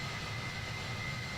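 Boeing 767 jet engines on takeoff in Microsoft Flight Simulator 2020 make a steady, loud roar and whine with a sustained high tone. The sound stays constant with no voices.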